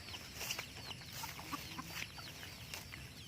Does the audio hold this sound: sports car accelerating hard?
no